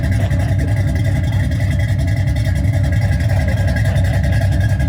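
A 3-valve car engine idles steadily with a deep, lumpy rumble like a pushrod V8, heard close and continuous at a car cruise-in with no talk over it.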